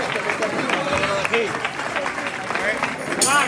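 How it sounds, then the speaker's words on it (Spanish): Applause from an audience at a Día de Andalucía 2026 celebration in Guadalcacín, following a performance by a seniors' centre choir; crowd clapping and cheering continue throughout, mixed with voices and some whistling near the end. "vamos a darle un fuerte aplauso al coro del Centro de"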